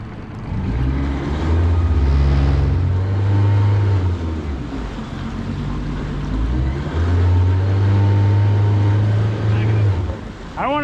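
A fishing boat's engine runs at low revs, a deep steady drone that swells and eases, with water and wind noise around it.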